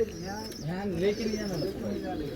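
Pigeons coo at a large pigeon farm in Latur, Maharashtra, soft rolling calls close by with someone talking over them.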